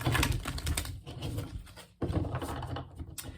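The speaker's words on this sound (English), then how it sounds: "One more shuffle" Tarot cards riffle and flutter in two quick bursts of crisp papery clicks, close by, separated by a short pause.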